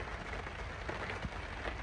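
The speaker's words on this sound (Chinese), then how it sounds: "那雨连续下，一下下好几天。" Rain falling steadily on a campsite shelter during days of continuous rain, a dense, even patter of drops close by, with no voices.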